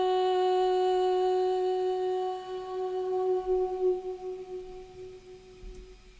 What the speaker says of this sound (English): we can hear that long reverb fading in as the main vocal dies away